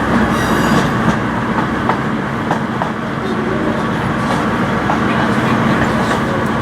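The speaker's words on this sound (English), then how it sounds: "we are running alongside this Transpennine service to Manchester Airport" A train pulls out of Leeds alongside a Transpennine service bound for Manchester Airport, giving a steady, loud rolling rumble of wheels on rail with scattered clicks and faint squeals throughout.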